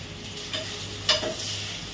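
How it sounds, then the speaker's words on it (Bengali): Fish fries in a pan of masala for a fish curry, giving a low, continuous sizzle broken by a couple of brief scraping stirs, close by and without speech. "এবারে মাছটা প্রায় হয়েই এসেছে ভাজা"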